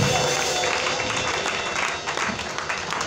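Audience applause in a church, a dense and steady patter of many clapping hands that carries on for a few seconds at a moderate distance.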